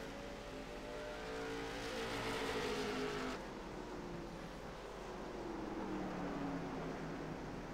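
Late model race cars racing at Stafford Motor Speedway, a steady roar of engines droning past in a pack, swelling and easing as they go by, with no talk.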